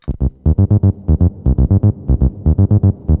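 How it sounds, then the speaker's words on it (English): A Donner B1 analog bass synth plays a bouncy sequenced pattern of short, punchy notes through a reverb effect, each note repeating in quick, even rhythm with a light wash of tail, close and alone. "Let's hear this reverb."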